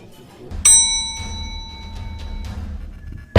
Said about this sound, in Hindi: ठाकुर ने घंटी बजाई